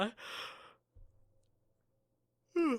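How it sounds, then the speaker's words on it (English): A drawn-out human yawn: a breathy, open-mouthed exhale, a pause with faint low rustling, then a short voiced groan-like finish at the end. "I could not stifle that yawn"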